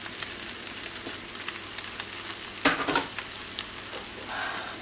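Ham fried rice frying in a hot pan as green onions go in, a continuous close sizzle with a sudden louder burst of crackling midway, no voices.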